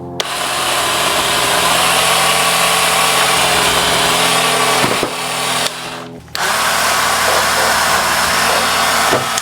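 TACKLIFE 8-inch electric pole saw cutting a tree branch outdoors, a loud sustained motor whine with a steady hum that dips briefly twice as the cut proceeds, then carries on at full speed.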